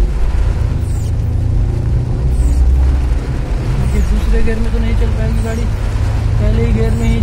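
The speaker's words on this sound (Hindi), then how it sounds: "अब ये गाड़ी बिल्कुल जवाब दे रही है, अपनी आवाज़ सुन रहे होंगे गाड़ी का" A car engine strains in first gear while driving through urban floodwater on a rainy Karachi street, with a low, continuous labouring rumble and people talking over it throughout.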